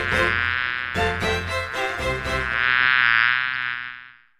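An insect-like buzzing sound effect, the drone of a bee in flight, plays loud and close for about four seconds, stuttering in short bursts before swelling into a sustained hum that fades out at the end.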